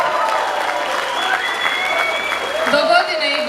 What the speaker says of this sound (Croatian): plješćite, nemojte štediti dlane